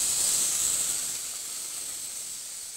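Milk poured into sugar in a hot kadhai while making chini ke pede gives a steady, fairly loud hiss that slowly eases over a few seconds, with no talking.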